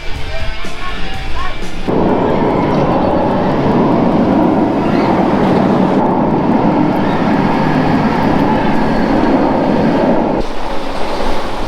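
A Nemesis roller coaster train at Alton Towers roars loudly and steadily, a broad rumbling surge that rises sharply and holds for several seconds before dropping back to quieter ambient noise.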